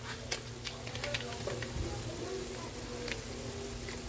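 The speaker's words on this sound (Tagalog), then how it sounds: "Nagisa na po yung ating pork." Pork sautéing in a pan with pickles and oyster sauce, a soft continuous sizzle with faint ticking pops and light stirring, fairly quiet, with a voice speaking intermittently.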